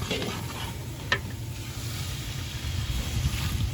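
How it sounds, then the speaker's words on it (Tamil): Water poured into a large pot of rice and masala: a steady rushing, splashing pour with a brief clink near the start, continuous and close, no voices. "தண்ணி ஊற்றிடலாம். ஊற்றிடுங்கம்மா."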